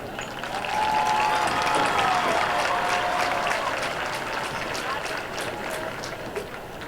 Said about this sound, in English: Ladies and gentlemen, please give a round of applause that Miss Jaslyn Knight could hear all the way from Birmingham